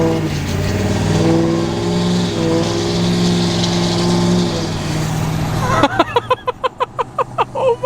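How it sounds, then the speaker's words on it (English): Duramax L5P diesel truck with a 5-inch exhaust, a loud sustained deep drone that gives way to a rapid series of sharp, pulsing bursts near the end. "it's loud, guys. It is super loud. I recommend 5-inch exhaust."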